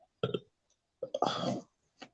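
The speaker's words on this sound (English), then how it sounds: "sorry, I burped" A single short burp sounds close to the microphone amid brief bits of quiet indoor talk on a relaxed live chat panel.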